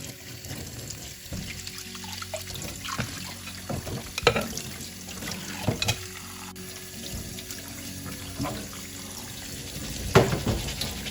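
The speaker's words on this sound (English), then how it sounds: "just rinse that. Don't be afraid to give it another little rinse." Tap water runs into a bowl as sushi rice is rinsed, a steady wash of water with swishing and splashing from handling the grains, close and moderately quiet, with no speech.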